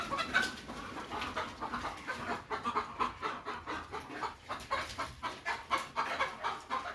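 Laying hens in a small poultry farm of about 120 birds, kept in hot weather, cluck in a fairly faint, rhythmic series of repeated short calls, with no voices.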